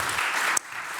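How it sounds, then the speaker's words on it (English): An audience applauds a curator as he joins the stage, a steady wash of many hands clapping that thins out partway through. "maybe an applause for Mark"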